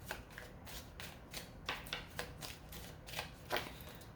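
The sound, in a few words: shuffling tarot card decks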